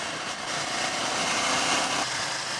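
Steady drone of a Ducati Scrambler Icon's 90-degree V-twin engine, a continuous even hum at constant revs with wind-like broadband noise, no speech.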